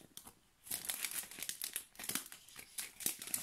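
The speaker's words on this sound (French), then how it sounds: "je vais ouvrir avec vous le sachet" A small crinkly plastic sachet from an advent calendar torn open and handled, bursts of sharp close crackling and rustling that come and go in several clusters, fairly quiet overall, no talking.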